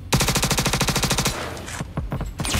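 Rapid automatic gunfire in a zero-gravity PvP battle in Star Citizen, a loud sustained burst of evenly spaced shots that breaks off into a few scattered blasts and clatter.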